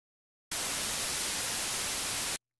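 Continuous broadband white noise built in FL Studio for a sweep effect, a steady loud hiss lasting about two seconds with abrupt start and stop, unprocessed and without any filter movement yet.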